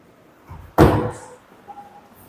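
A kitchen cabinet drawer in a townhouse slides and shuts with a single sharp knock, followed by a short fading rumble and a faint soft clatter.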